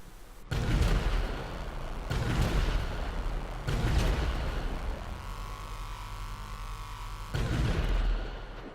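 Heavy booming tank cannon shots in GTA 5 fire in a slow series of about four blasts, each a deep thump with rumbling decay between them.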